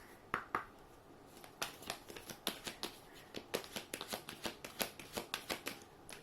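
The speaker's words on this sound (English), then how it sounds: "I'll just pull one more card for you" A deck of tarot cards is shuffled during a pick-a-card reading, giving a quick run of crisp, evenly spaced riffling ticks close by, with no talk.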